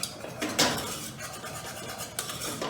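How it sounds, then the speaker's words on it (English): A whisk scraping and clinking against a pan as garlic and onion powder are worked into a roux, a few short metallic strokes close by. "I'm going to put that in the roux and whisk it in"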